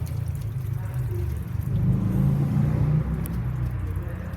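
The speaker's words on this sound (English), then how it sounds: "So we're getting lines of water coming out from the door panel" Water trickles and drips out of the door panel of a 2005 Volkswagen Golf with a water leak, a quiet liquid dribble under low rumbling background noise, swelling slightly louder in the middle.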